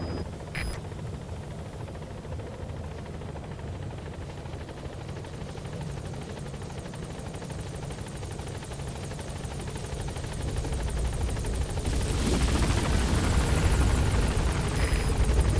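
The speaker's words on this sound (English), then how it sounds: "Support helicopter has arrived." Support helicopter arriving in Metal Gear Solid V: The Phantom Pain, a steady rotor and engine drone that grows louder and nearer toward the end, with no one speaking.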